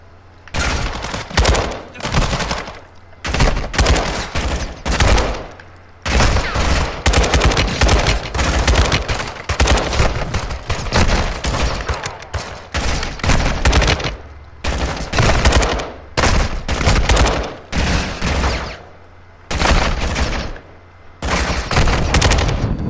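Dense video game gunfire crackles in repeated loud automatic bursts separated by short pauses, close and continuous throughout, with volleys of shots stacking on one another.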